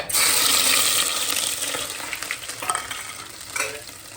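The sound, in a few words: mustard seeds, cumin and ginger-garlic paste sizzling in oil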